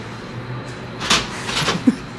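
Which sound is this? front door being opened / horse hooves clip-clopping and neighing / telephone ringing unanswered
front door being opened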